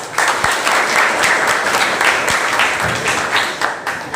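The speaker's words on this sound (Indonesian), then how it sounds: "Tepuk tangan untuk Mas Nurul." Students at a vocational high school in Purworejo applaud in a classroom, producing loud, continuous, dense clapping that holds steady throughout with a few sharper individual claps standing out.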